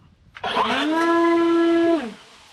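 An EGO LB7654 battery leaf blower spins up to a steady, loud whining roar, holds it for about a second and a half, then winds down.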